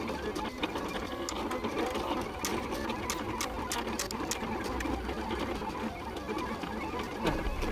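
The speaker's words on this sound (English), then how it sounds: "It's prepping up to cut the images that will be sent from the Silhouette Studio" A Silhouette cutting machine works through a design, a steady close mechanical whir with rapid stepping motor clicks and occasional sharper ticks, running continuously without speech.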